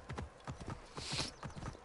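Horse hooves clip-clop in a steady quick rhythm in Assassin's Creed Origins, a soft but clear repeated trotting beat with light ambient game sound behind it.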